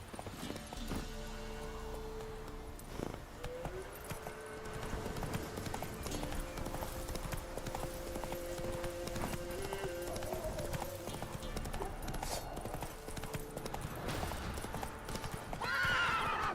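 Geralt's horse Roach in The Witcher video game, heard as continuous hoof clip-clops with a neigh, set against game music and ambience, with faint voice in the background.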